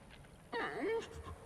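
A person on a voice chat imitates a dog with a brief whining, whimpering yelp that rises and bends in pitch, heard fairly close over faint background hiss during an online game session.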